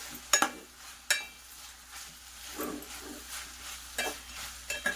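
Food frying in a pan at home gives a soft, low sizzle, broken by a few sharp clinks and scrapes as a spoon stirs it.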